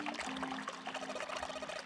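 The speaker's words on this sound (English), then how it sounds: "Hey, water's filling up. Doesn't that just mean the pipes are clogged?" Water runs and trickles from a knobless faucet in the video game 999, a steady close splashing pour that continues for the whole short stretch with no talking over it.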